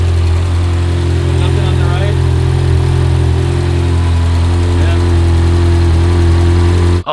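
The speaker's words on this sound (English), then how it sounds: "that's the broken header, so we gotta replace that. You can hear it really badly." A Ferrari engine with a broken exhaust header idles loud and close, a steady, rough, droning rumble that runs throughout while people talk over it.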